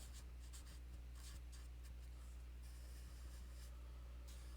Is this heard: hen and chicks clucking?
no